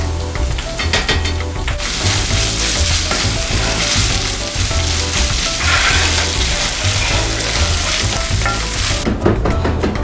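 About a tablespoon of tomato paste fries in a pan for a Peruvian papa rellena filling, giving a loud, dense, continuous sizzle with stirring scrapes throughout and no talking.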